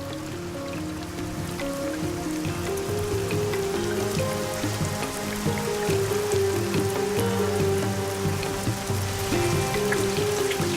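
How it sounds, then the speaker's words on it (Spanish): Dense, steady tropical rainfall in Australia pattering continuously on surfaces, with a constant hiss and no voices. "El resultado es la lluvia."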